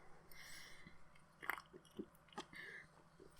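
Crunchy celery being chewed up close, a few irregular crisp bites and mashing sounds over about three seconds, quiet and alone with no talking.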